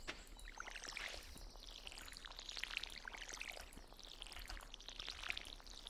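Water being collected in the game Stardew Valley, a soft pouring, sloshing splash that repeats in faint swelling waves, quiet and without talk.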